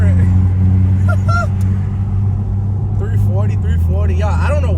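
A BMW 340i, a 900 bhp car, hums along with a low, steady engine drone from inside the cabin, while people talk over it throughout.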